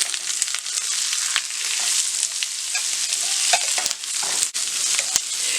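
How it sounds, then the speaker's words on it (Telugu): Onion and capsicum fry in hot butter in a kadai for paneer, a steady loud sizzle filling the whole stretch, with occasional stirring scrapes and small pops and no voices. "ఒక క్యాప్సికమ్ వేసుకొని ఫ్రై చేసుకోవాలి"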